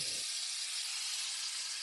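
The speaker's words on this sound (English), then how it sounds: "let's get a little steaming action going first. This is pork." Pork strips hiss and steam on a hot flat-top griddle, a steady loud broadband sizzle filling the whole clip after a brief low thump at the start, with no talking.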